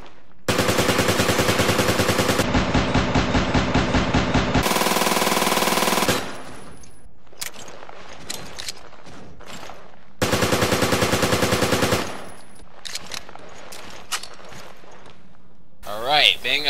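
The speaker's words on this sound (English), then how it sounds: "let's test this awesome P90 out" P90 submachine gun in Resident Evil: Revelations firing rapid, loud sustained bursts, several long strings of automatic fire separated by short pauses, with clicks and mechanical handling sounds between bursts.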